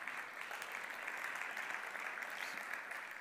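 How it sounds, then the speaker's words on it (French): Sustained audience applause at a French marketing awards ceremony, dense steady clapping from a crowd throughout, fairly distant and even. "On peut les applaudir pour ce bronze."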